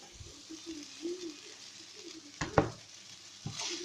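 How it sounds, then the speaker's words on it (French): Rice heating in a pan with shiitake mushrooms gives a soft, steady low sizzle, faint and close, broken by a few clattering stirs of a utensil against the pan near the end. "j'ai mis le riz. Je vais le chauffer 5 minutes"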